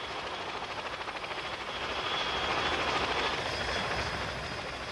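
Agusta A129 Mangusta military attack helicopter with an advanced rotor system, heard as a steady, fairly loud broadband rotor and engine drone with a fast blade flutter, swelling slightly in the middle and holding through the whole stretch.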